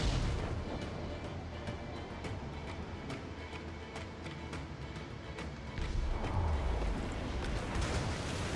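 Ship cannons booming during a naval battle in Assassin's Creed IV, a run of deep, heavy blasts rolling over a constant rumble, with a louder burst near the end.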